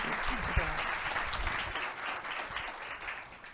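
An indoor audience at a corporate leadership speaker series at Mattel gives a warm round of clapping to welcome speaker Sahar Andrade, with steady applause that gradually fades.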